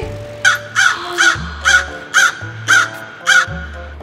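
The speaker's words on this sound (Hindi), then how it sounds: "कौवा है। हम इंग्लिश में क्रो कहते हैं।" A crow caws seven times in a steady, evenly spaced series of harsh calls, close and clear over a soft musical backing.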